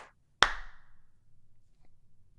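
A single sharp hand clap rings out alone in a quiet room, with a short decaying tail, used to sync a podcast recording.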